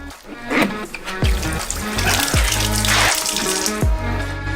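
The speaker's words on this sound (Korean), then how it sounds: "수박을 수도꼭지로 가져가서 흙을 깨끗이 씻어내요." Water runs from a faucet over a watermelon as it is washed in a sink, a continuous splashing stream punctuated by several hollow thumps and drips.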